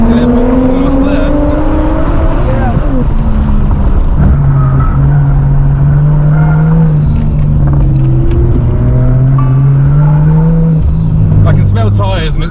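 A car accelerating on a race track alongside supercars, its engine droning loud and close with rising and falling pitch through gear changes, while people talk over the engine noise.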